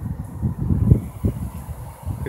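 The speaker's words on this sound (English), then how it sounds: "It's a very windy day right now." Gusty wind of about 15 miles an hour or more buffets the microphone in low, rumbling surges that rise and fall over a couple of seconds, with no voices.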